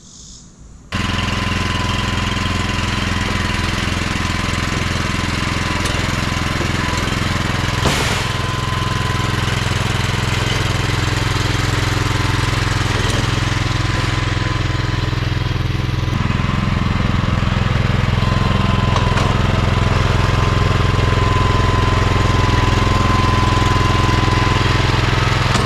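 A Turfteq power unit runs with its power broom attachment, a loud, steady small-engine drone with a rattling, knocking texture that continues throughout at close range, with no talking.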